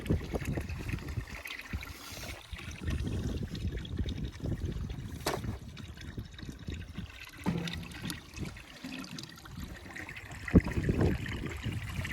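Spring water trickles at a roadside source marked by a cross, a steady faint dribble with low outdoor rumble and occasional knocks and rustles.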